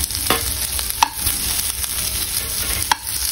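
Onions with green chilli, ginger and garlic frying in a pan for street-style egg pasta, a steady close sizzle with a few clinks of a stirring spoon against the pan.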